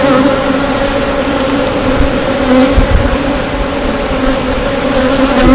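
A steady, droning buzz of many honeybees around a hive fills the air continuously, close and fairly loud, with no voices.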